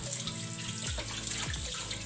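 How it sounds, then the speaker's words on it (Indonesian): Tap water runs steadily while hands are rinsed of soap at a sink, a continuous close splashing hiss with low gurgles and shifting tones as the hands move through the stream. "kita harus bilas"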